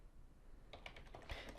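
A computer keyboard clatters with a short, faint run of key taps in the second half, soft clicks following quickly one after another against a quiet background.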